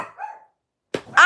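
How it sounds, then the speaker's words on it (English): A little Yorkie lets out a couple of sharp, high barks, each short and close, with a brief silence between them. "Well, quit barking. That little Yorkies, y'all. Just barking"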